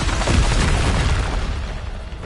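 Bombarda spell from Hogwarts Legacy bursting in a deep, booming explosion that rumbles loudly and then slowly fades over about two seconds.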